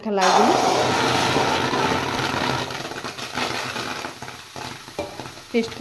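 Paste-coated bottle gourd pieces drop into a hot kadai with a loud burst of sizzling, then stirring scrapes and clatter as the frying hiss eases off.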